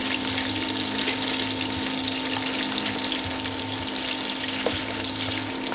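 Steady, dense sizzling of lamb pieces frying in a hot pan, continuous and close, with a low hum underneath.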